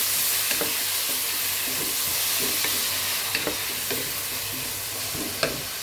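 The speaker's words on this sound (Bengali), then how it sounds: "দেখেন আমি টমেটোগুলো দিয়ে দিলাম, একটু লাড়াচাড়া করে মিক্স করে নিচ্ছি।" Tomatoes and green chillies being stirred into onions frying in a pan, giving a steady sizzle with repeated scraping strokes of a spoon at a roughly even pace, close and fairly loud throughout.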